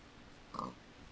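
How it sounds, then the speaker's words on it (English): A single short pig oink from Minecraft sounds once near the middle, faint against a quiet background. "Kill the oinker."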